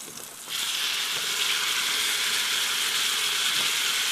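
A ribeye steak sizzles in a frying pan, the hiss jumping up loudly as the meat goes in and then holding as a steady, close frying crackle.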